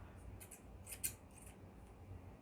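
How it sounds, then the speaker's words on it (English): Scissors cutting rub-on transfer letters from a sheet: a few soft, quick snips, faint and close, with no talking. "And you will take a pair of scissors"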